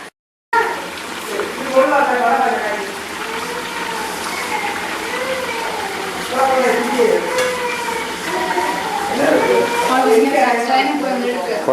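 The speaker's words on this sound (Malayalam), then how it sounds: "തിളയ്ക്കുന്ന വെളിച്ചെണ്ണയിലേക്ക് പന്നി കഷ്ണങ്ങളാക്കിയിരിക്കുന്നത് ഓരോന്നും എണ്ണയിലേക്ക് ഒഴിച്ച് വറുത്ത് കോരി വെച്ചിരിക്കുന്നു" Pork pieces fry in boiling coconut oil with a steady, loud, rain-like sizzle, while a voice talks over the bubbling throughout.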